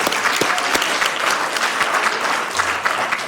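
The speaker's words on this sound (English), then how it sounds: "Big round of applause." Sustained audience applause fills a council chamber at a city council meeting honoring a coach and team, dense steady clapping from a sizeable crowd with no speech over it.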